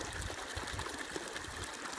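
Steady rushing water at the top of a waterfall with a roughly 100-foot drop, a continuous soft broadband wash heard from a distance with no voices.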